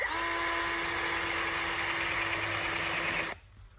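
A high-speed rotary power tool notches out metal in a VW Golf 2.0 engine head during a cam swap, running as a loud, steady whine for several seconds before cutting off abruptly.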